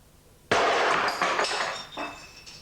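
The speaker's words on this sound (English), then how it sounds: "if I hit this resin sufficiently hard with the hammer," A hammer strikes brittle resin hard, a sudden loud crack followed by a burst of shattering fragments that skitter and tinkle away over about two seconds.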